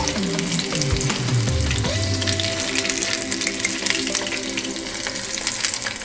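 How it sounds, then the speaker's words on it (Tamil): Chicken 65 pieces fry in oil over a medium flame, giving a steady, close sizzle that carries on without a break, with a few low hums and clatters underneath and no talking. "ஸோ மீடியம் ஃப்ளேமில் வச்சுட்டு லைட்டாக வறுத்து பாருங்கள்."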